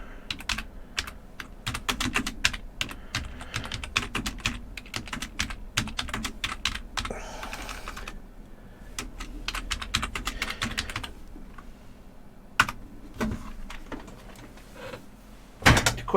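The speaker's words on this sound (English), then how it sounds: "hang on, I'm just typing something." Brisk clicking of fingers typing on a computer keyboard, uneven bursts of keystrokes with short pauses, close and fairly quiet, no voices.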